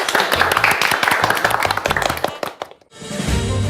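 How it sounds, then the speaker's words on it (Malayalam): A studio audience claps for a first-prize poetry winner on a comedy television show, a dense burst of applause that dies away briefly before a fresh round of clapping starts up. "കൈയടി."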